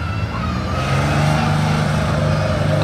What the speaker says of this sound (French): c'est quoi cette Porsche là de course qui sort du parking ici?